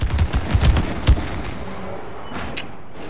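Gunfire in the co-op video game It Takes Two: a quick run of loud shots in the first second, then a quieter stretch of game sound with a couple of brief later pops.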